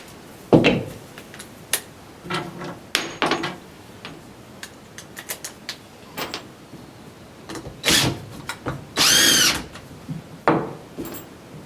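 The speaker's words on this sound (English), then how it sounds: "So I might drill a hole through this and just put a dowel rod through it" A power drill bores a hole through old wood with short, loud whirring bursts and pauses between them, plus scattered knocks and handling noises close by.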